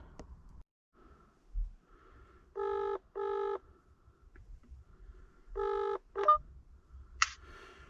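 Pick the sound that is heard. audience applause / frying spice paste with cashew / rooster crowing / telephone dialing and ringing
telephone dialing and ringing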